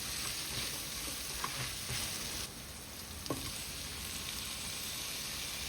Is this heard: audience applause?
no